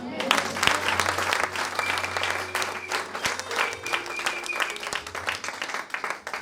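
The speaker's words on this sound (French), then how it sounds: "Est-ce qu'on peut acclamer le Seigneur?" A church congregation bursts into sustained applause and cheering to acclaim the Lord during a Christian sermon, dense clapping filling the room with scattered shouts and voices underneath.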